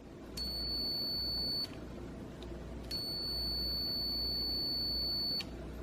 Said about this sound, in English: What's not so great and not so discreet is it has a big beeping sound